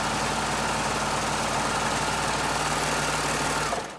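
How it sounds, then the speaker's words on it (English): A 4-thread overlock serger stitches stretchy double-brushed poly fabric, giving a steady, dense mechanical whir that holds evenly for about four seconds and then cuts off at the end. "I'm just going to run my serger stitch"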